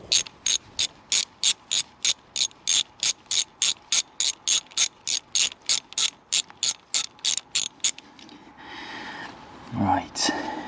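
A ratchet undoes the EGR valve bolts on a Mercedes OM642 diesel engine in a W204 C350 CDI, with about twenty rapid, even clicks up close, then a pause, rustling handling noise and a brief voice.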